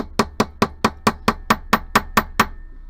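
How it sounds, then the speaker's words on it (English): Metal hammer striking jewelry wire on a hard block to flatten it for chandelier earrings, eleven sharp, evenly spaced taps in a steady rhythm, close and loud with no talking. "And hammering, here we go."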